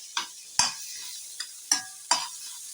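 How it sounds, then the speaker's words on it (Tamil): Vegetables for veg kothu parotta frying in a hot pan, heard as a steady sizzle broken by five sharp scraping stirs at irregular intervals, close and fairly loud with no voices. "நல்லா வெஜிடபிள்ஸ் நல்லா ஃப்ரை ஆகட்டும்"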